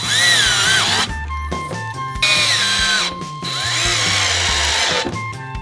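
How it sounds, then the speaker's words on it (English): A power screwdriver whines in several bursts, driving screws through corner brackets into plywood, its motor pitch rising and falling with short pauses between each screw. "Now we are armed with a screwdriver and corners."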